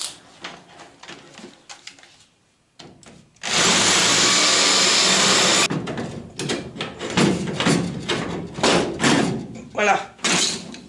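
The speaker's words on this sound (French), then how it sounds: "Comme d'habitude, un petit coup de fraisage." A power tool countersinks drilled holes in Citroën Traction 11B sheet metal with one loud sustained whirring burst, surrounded by clattering handling noises and short grinding touches.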